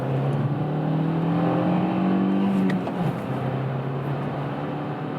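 A Kia XCeed accelerating on a slightly downhill road from second into third gear, its engine drone rising steadily, dropping briefly at the gear change, then climbing again, with steady road and wind noise inside the cabin.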